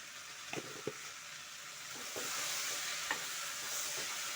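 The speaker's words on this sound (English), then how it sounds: "And then we stir." Black beans (njahi) being stirred in a pot, quiet scraping strokes at irregular intervals over a soft steady simmer-sizzle background, close and faint.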